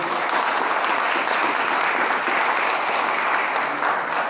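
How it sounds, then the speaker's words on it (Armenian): An audience at a book launch for a young writer's poetry collection claps steadily and loudly, a dense, unbroken burst of applause with no talk over it. "Եկեք ծափահարենք այս երիտասարդ գրողին։"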